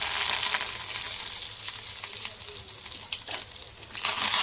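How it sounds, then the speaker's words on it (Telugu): Ajwain seeds spluttering in hot oil for a tempering, a close, busy sizzle with sharp little pops and crackles rising and falling over a few seconds. "వాము కూడా చక్కగా ఫ్రై అవ్వాలా."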